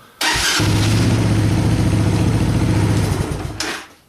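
Honda engine with a bypassed faulty ignition switch cranks and catches at once, then runs at a loud, steady mid-pitched idle for about three seconds before shutting down, recorded up close in a shop.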